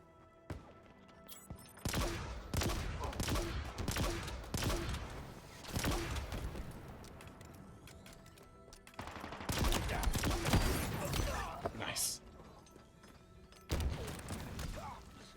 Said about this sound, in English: This little plasma pistol that you charge up